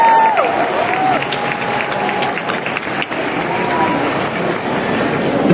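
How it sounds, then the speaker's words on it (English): Concert crowd in a large dome venue applauding a performer coming onstage, a steady loud wash of clapping and cheering with a faint whistle-like tone near the start. "Everybody, give him a round of applause."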